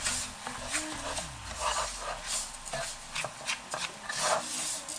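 A spoon scraping and rubbing as couscous is stirred into tomato sauce for jollof couscous, soft uneven strokes repeating near and fairly quiet, with a low voice briefly heard.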